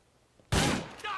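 A single loud shotgun blast in Grand Theft Auto IV booms suddenly out of near silence and leaves a short ringing tail, with a voice sounding faintly underneath.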